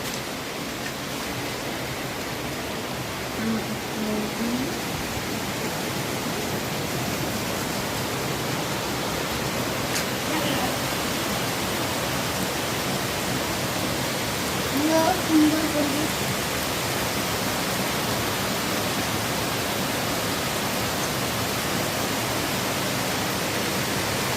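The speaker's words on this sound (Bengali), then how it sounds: "দারুণ বৃষ্টি পড়ছে চারদিক দিয়ে" Heavy rain pours down all around ahead of Cyclone Remal, a dense, steady hiss filling the whole scene; one brief louder patch rises midway and faint voices surface now and then.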